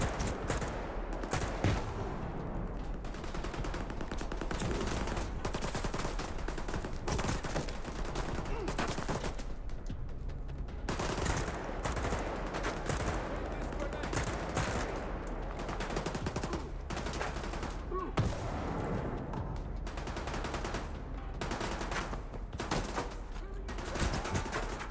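Gunfire in the video game S.T.A.L.K.E.R. 2, with repeated bursts and single shots crackling at close range in irregular clusters, some rapid automatic volleys, over faint game ambience.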